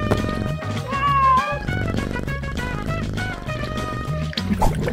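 A cat meows repeatedly and fairly close over a busy background of music and liquid-like sounds near a fish-catching cat toy.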